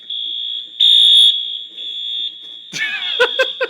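An office fire alarm blares a piercing, continuous electronic tone that briefly grows louder, with sharp clattering sounds and short bursts of other noise over it near the end.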